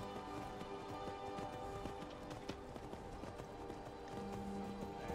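Rhythmic hoofbeats of a ridden horse in the video game Skyrim, moderately close and continuous, layered over a soft sustained musical drone with no speech.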